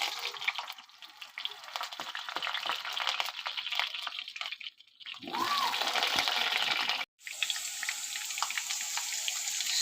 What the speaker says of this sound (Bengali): মাছটা আমি ভেজে নিয়েছি, এখন আমি আলুটা ভেজে নেব।